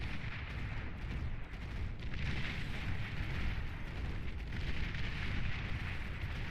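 Artillery fire from the strategy game Beyond All Reason: a dense, continuous rumble of booming shots and blasts rolling on without pause, loud and steady throughout with no voices.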